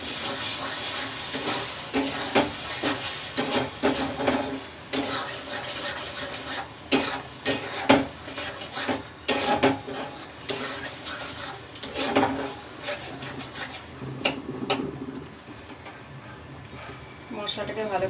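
Spice masala being stirred and fried in a pan: repeated scraping and clinking of a spatula against metal, irregular strokes with a soft sizzle beneath, close and moderately loud.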